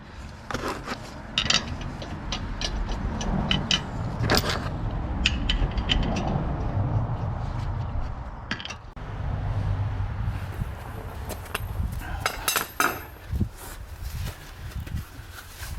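Metallic clicks and ratcheting as a wheel bolt is fitted onto a motorhome wheel hung on locator pins during a roadside puncture change, repeated close mechanical rattles and scrapes over a steady background.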